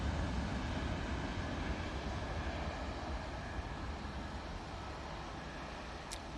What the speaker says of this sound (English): Ryanair now on the roll using the 737-800 with the split scimitars, going back to Dublin